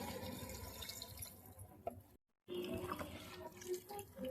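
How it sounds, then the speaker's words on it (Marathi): Water added to a pot of mixed vegetable curry for bhogichi bhaji, a steady running pour and splash close by, briefly cut off midway then resuming, with no talk. "पाणी ऍड करायचं."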